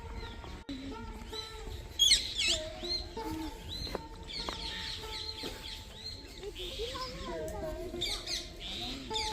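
Parrots and pigeons squawk and chirp in a noisy flock close by, with sharp calls over a busy background and some voices mixed in, at Vrindavan.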